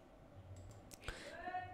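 A single sharp computer mouse click stands out near the middle, close and fairly crisp, over a quiet room background with faint low hum.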